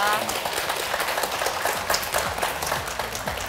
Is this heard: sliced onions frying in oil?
no